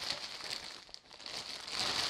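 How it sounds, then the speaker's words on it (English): A large plastic bag wrapped around a wall-mounted photography boom arm crinkles steadily, a soft continuous rustle that stays close and fairly quiet, with no voices. "It is just wrapped up in some plastic. Big plastic bag."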